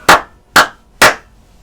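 Three slow, loud hand claps spaced evenly about half a second apart, close and alone with no talk.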